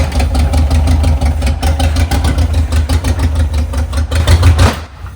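A 1973 VW Bus engine cranks and catches, running rough with rapid uneven firing and sharp popping backfires, loud and close, then cuts out abruptly near the end.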